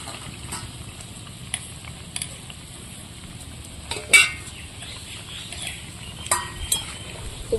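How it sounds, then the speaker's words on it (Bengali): Mourola fish curry with cumin paste simmering in a pan, a soft continuous bubbling and sizzle with scattered sharp clinks and taps, the loudest around four seconds and again near six and a half. "জিরে বাটা দিয়েছি আর একটু ফুটিয়ে নেব"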